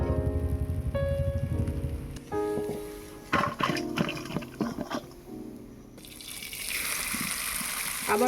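Chicken chow mein is tipped into a hot pan over background music and bursts into a loud, spreading sizzle that holds steady to the end.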